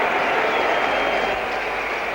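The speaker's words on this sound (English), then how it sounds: "The West Indian crowd is going wild over on the left of the ground." A large crowd at the 1975 Cricket World Cup cheering wildly after an Australian wicket falls to the West Indies, a dense, continuous roar of voices and clapping heard at a distance.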